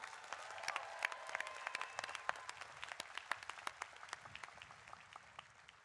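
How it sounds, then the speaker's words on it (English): A commencement crowd applauds, many hands clapping in a dense patter that gradually thins and fades. "Let's give them a big round of applause one more time."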